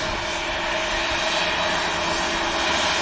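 A Ryanair airliner heading out from Manchester Airport gives off a loud, continuous engine roar with a low droning hum underneath, unbroken for the whole stretch.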